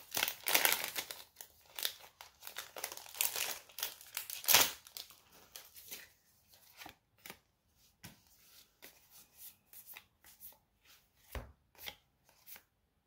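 Magic: The Gathering Strixhaven booster packs being torn open and their cards handled, with crinkling foil and crisp tearing and flicking sounds. These come in dense bursts at first, then thin into sparse, quiet clicks and rustles.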